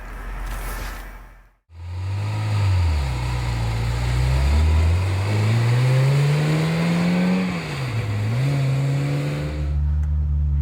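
A Ferrari F355 Spider pulls away from a stop with a smooth clutch take-up, its engine note rising steadily through the revs, dipping briefly as it shifts, then climbing again, close and loud from inside the convertible with no talk.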